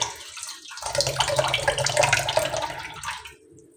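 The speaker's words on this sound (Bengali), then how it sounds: "আমি চার পাঁচবার জল পাল্টে পাল্টে" Water runs from a tap into a sink while winter vegetables are washed, a close, steady gush of splashing and rinsing that eases off at the end, with no voices.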